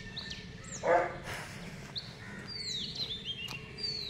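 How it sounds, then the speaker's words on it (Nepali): A dog barks once or twice at a distance on an early-morning walk, with birds chirping in the background. "कता भुक्यो, कसको लागि भुकेको?"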